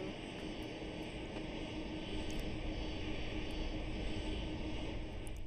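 Airplane engine in the video game Aeronautica, a continuous even drone with a steady hum and a few faint high ticks, holding a constant level throughout.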